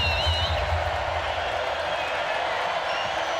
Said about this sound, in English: Crowd is up and making noise here at Reed Arena.